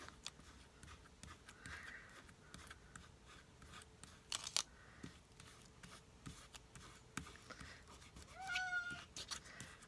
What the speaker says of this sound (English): I don't know if you hear my cat.